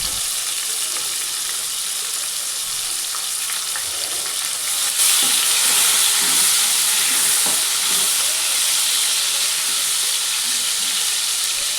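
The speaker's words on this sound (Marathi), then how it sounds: "टमाटर 1 मिनिटभर परतून घेऊ." Chopped tomato sizzling and frying in hot oil with cumin, curry leaves and asafoetida, a steady loud hiss that swells around the midpoint as it is stirred, with no talking.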